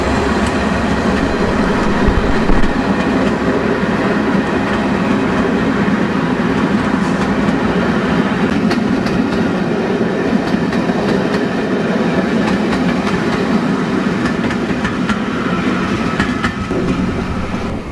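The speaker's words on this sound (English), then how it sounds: "Bittern coasts through the station on its way to Minehead with two Type 67 diesels in tow" Steam locomotive Bittern rolls steadily through a station with two Type 67 diesels coupled behind on a long charter train, a continuous loud rumble of wheels and carriages with rhythmic clickety-clack throughout.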